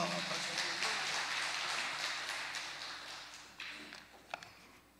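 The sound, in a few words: church congregation applauding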